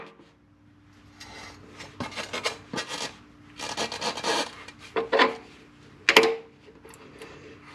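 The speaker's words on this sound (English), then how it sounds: "we're going to loosen the axle nut on this side." A wrench loosens the rear axle nut of a motorcycle on a rear stand. Close, gritty rasping and grinding come in uneven bursts, building to a few sharper scrapes toward the end.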